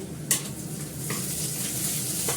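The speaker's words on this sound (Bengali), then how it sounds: "ভালো করে হতে থাক ভাজাটা" Steady sizzling of fish frying in hot oil, with a couple of brief clinks from utensils against the pan.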